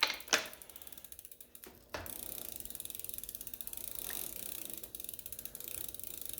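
Ratchet wrench tightening a new crank arm bolt on a Cannondale Adventure bicycle, a rapid close clicking pawl over quiet workshop background, with a couple of sharper knocks near the start.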